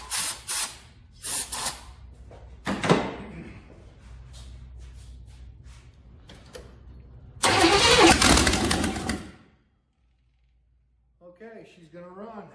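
A lowrider car engine cranks over in short bursts, then catches and roars loudly for about two seconds before cutting out. Low rumbling and clattering fill the gaps between the bursts, and a voice speaks briefly near the end.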